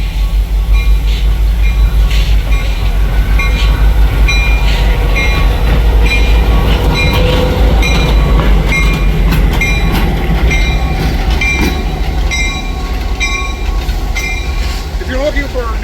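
A train rumbles past on an adjacent track beside a stationary railroad yard, with heavy low rumble, rhythmic wheel clatter and metallic squeals sustained throughout at loud, close range.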